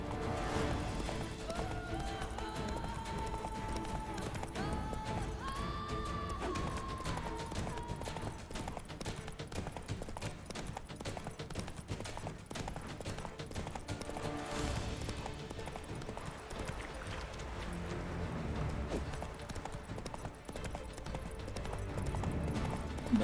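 Roach the horse gallops in The Witcher 3: Wild Hunt, a steady run of hoofbeat clip-clops with an occasional whinny, heard continuously beneath game music and ambience.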